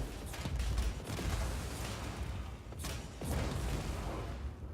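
Red barrels exploding in the video game Just Cause 4, a rapid chain of booming blasts in several loud bursts with brief lulls between them.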